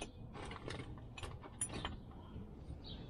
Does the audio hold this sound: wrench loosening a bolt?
yes